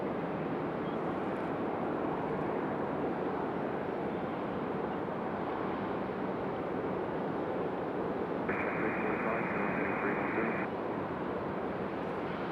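A CRJ regional jet at Raleigh-Durham International Airport gives a steady, loud broadband roar that holds evenly throughout, with a brief higher tonal band appearing near the end.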